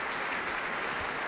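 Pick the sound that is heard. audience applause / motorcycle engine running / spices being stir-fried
audience applause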